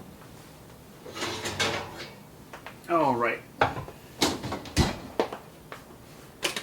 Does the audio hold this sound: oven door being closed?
yes